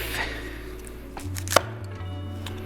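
A kitchen knife cuts into a broccoli crown on a cutting board, giving a single sharp close chop followed by a faint snap, over a low steady hum from a stovetop in the background.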